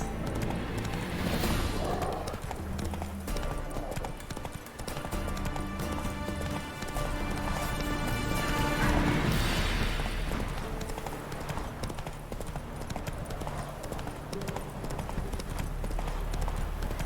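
Roach, a horse in the game The Witcher: Blood and Wine, gallops in a fast, steady clip-clop of hooves, loud and close, carrying on through the whole stretch over a game soundscape.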